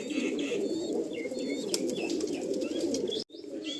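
Pigeons at a loft where birds are kept for sale make low, steady cooing over a continuous murmur, with thin higher chirps scattered above and a brief dropout near the end.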